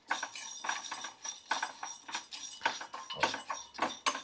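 Whole cardamom pods and cinnamon sticks fry in a pot while a metal spoon stirs them, giving irregular scraping clinks against the pan. The sounds are close but quiet, with no talk.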